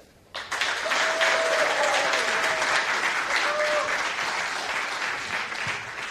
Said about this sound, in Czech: tak takový nadšený potlesk.